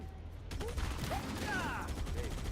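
Gunfire in Halo: Campaign Evolved, a rapid burst of shots that rattles steadily for about two seconds after a brief quiet start, with game voices mixed in under the firing.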